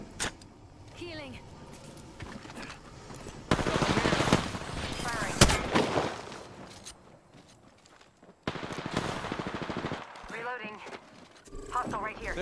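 Gunfire from an Apex Legends fight: dense bursts of rapid shots in several loud clusters, with quieter stretches between, mixed with game effects and a voice talking over it.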